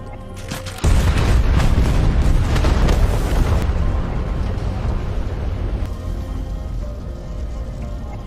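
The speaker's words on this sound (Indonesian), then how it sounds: "Dan setelah itu pun ledakan pun terjadi" A huge boom from a fighter jet strike in an action film bursts in after a short lead-in, then settles into a long rumbling roar of debris and fire that fades slowly.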